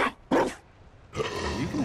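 A dog barks in Dragon Age: Inquisition (Trespasser), giving two sharp, loud barks in quick succession followed by a longer growling, rumbling vocalization, with no talk over it.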